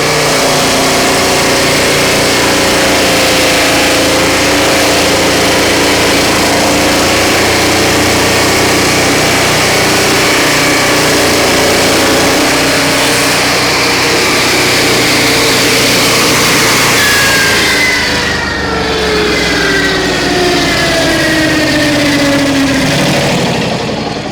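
A Turbosawmill's engine runs steadily while its blade saws through a knotty log, a loud, continuous mechanical drone whose pitch slowly dips and rises as the cut bogs on knots, with no talk over it.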